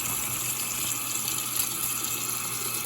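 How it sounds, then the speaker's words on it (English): Tap water pours steadily into a kitchen sink while rice is washed for a Cajun oxtail meal, a constant rushing hiss with no voices over it. "I have to wash my rice off."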